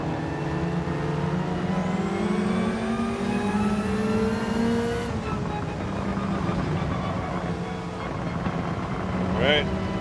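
In the Gran Turismo 7 racing game, race car engines drone continuously while chasing a McLaren, their pitch rising and falling through gear changes, loud and up close throughout.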